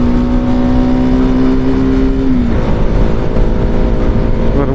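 A motorcycle engine runs hard and steady while being ridden fast along a cold, snowy road, its loud droning note holding high and then dropping slightly partway through, close and continuous with no talk.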